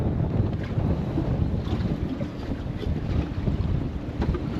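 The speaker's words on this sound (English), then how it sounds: "Well, the wind's blowing." Wind gusting over open water from a small fishing boat, a loud, steady rumbling roar with buffeting against the microphone and faint lapping beneath it, with no voices.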